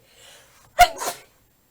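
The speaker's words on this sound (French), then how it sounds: "j'ai éternué du coup" A single sharp, close sneeze bursts out with a quick double push, loud against an otherwise near-silent room.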